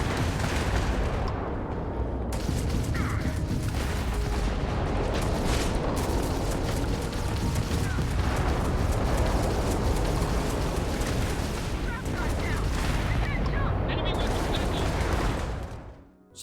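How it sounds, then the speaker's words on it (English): A Class C starship in Starfield unloads two Alpha auto turrets, two auto Gorse guns and three CE-49 missile launchers at once, a dense, unbroken roar of firing and blasts that holds loud for about sixteen seconds before dropping away. "The ship's got 2 Alpha auto turrets, 2 auto Gorse guns, and 3 CE-49 missile launchers"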